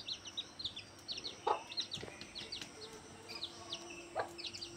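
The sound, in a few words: yellow chicken chicks cheeping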